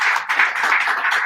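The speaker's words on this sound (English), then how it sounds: "Give her a big round of applause once again." Applause from a comedy stand-up audience in DC, a fairly loud, dense patter of many hands clapping continuously without a break, with no voices over it.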